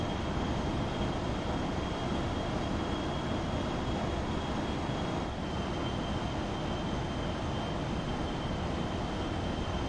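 Jet engines of a C-17 Globemaster in the X-Plane 11 flight simulator make a steady, loud, continuous roar with a thin high whine running over it, unbroken throughout.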